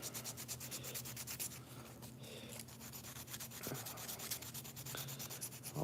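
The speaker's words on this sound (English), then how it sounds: "All I'm doing is smoothing it out around those edges." Edges of a knife handle are sanded smooth with a continuous close rubbing scrape in quick rhythmic strokes. The sound is faint and steady, with no voices.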